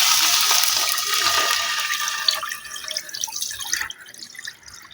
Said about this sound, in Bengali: ওই প্যানেতেই 500 ml দুধ দিয়ে দিচ্ছি।